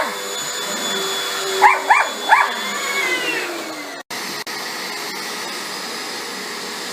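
A household vacuum cleaner drones steadily and loudly throughout, with a few dog barks or yelps breaking in near the start and brief dropouts midway.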